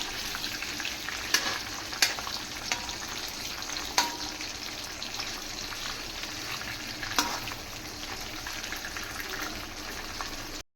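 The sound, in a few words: cashews frying in a pan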